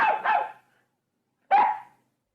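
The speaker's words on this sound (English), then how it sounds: "In the garden, Nana looks at the sky and barks." A dog in a garden gives a quick double bark, then falls silent before a single sharp bark follows, each one close and clear with no other sound around.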